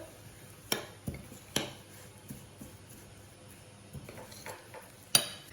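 A spoon clinks and scrapes against a bowl while a homemade horse treat mixture is stirred, giving a few sharp, scattered knocks over a quiet background.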